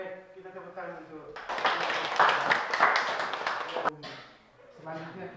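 Brief applause from a classroom audience during a physics teaching practice exam, a burst of clapping lasting about two and a half seconds between stretches of a man's speech.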